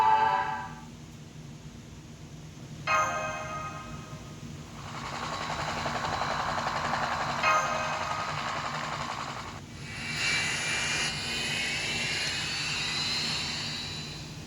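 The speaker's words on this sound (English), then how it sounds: "That's a plane, alright." A jet airliner on a non-stop flight roars steadily with a broad, rushing engine hiss, swelling and easing in waves over several seconds, with no talk over it.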